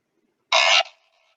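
A single short scrape of a plastic instrument, a bright rasping burst of about a third of a second, close and alone against silence.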